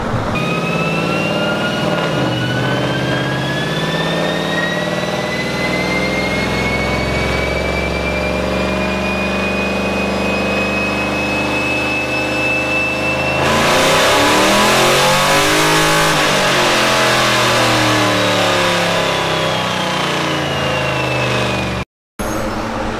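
A Camaro engine revs hard on a dyno during a pull, a loud, sustained roar climbing steadily in pitch, then surging louder before falling away, with no voices.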